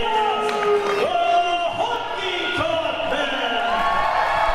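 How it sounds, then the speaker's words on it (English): Wrestling match crowd cheering and roaring in a packed arena as the Honky Tonk Man wins against Duke Durango, a steady loud crowd wash with shouts, under a ringside announcer's commentary. "He tried his best, but the Honky Tonk Man has prevailed here to the delight of this great crowd."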